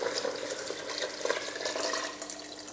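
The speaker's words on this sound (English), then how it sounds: "we can start adding that liquid that we've been cooking the ox cheeks" Cooking liquid from braised ox cheeks pours steadily into a pot for a beef stew, a continuous splashing, bubbling gush of liquid heard up close.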